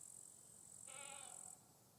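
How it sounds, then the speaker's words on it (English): A goat bleats once, a short wavering call at moderate distance over a faint background with a steady high whine. "I hear a goat."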